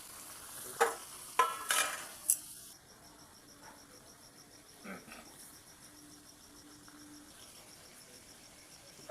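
Chicken pieces fry in a pan, with a few sharp clatters of stirring early on, then a soft, steady sizzle that continues to the end, no talk.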